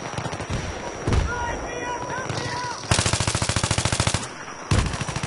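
Rapid automatic gunfire in the video game Battlefield 3, several short bursts followed by a long fast run of loud, evenly spaced shots, with a voice talking over parts of it.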